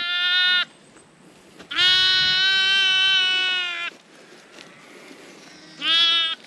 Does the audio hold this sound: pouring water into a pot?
no